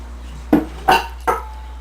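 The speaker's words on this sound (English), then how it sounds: "So I put my cutting board on there. I like to get another bowl" A cutting board and a bowl set down on a kitchen counter, three distinct knocking thuds in a row, close and fairly loud against a low steady hum.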